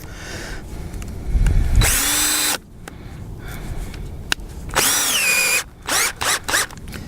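A power drill with an auger bit whines in several bursts, a long run then shorter on-off pulses, with a pitch that sags as the bit bites into maple tree wood.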